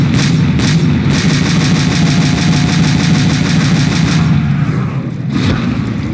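Rapid, loud automatic gunfire from a weapon in Call of Duty: World at War rattles on almost without a break, close and dense, with a brief dip near the end and no voice over it.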